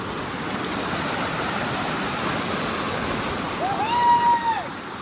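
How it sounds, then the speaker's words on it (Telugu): Steady rushing water of a fast mountain stream swollen by rain fills the whole clip, a dense broadband flow, with a brief tonal call rising over it near the end. "వాటర్ స్పీడ్ చూడొచ్చు ఫ్రెండ్స్. అవన్నీ కొండలో పడిన వర్షం వల్ల వస్తున్నాయి."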